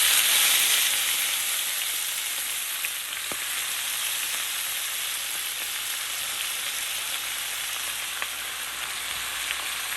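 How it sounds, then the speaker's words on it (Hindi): Spinach sizzles and fries in hot oil seasoned with asafoetida, a steady close crackle filling the whole stretch, with faint stirring scrapes and brief clicks on top. "अब मैं इसमें ये पालक डाल देती हूँ।"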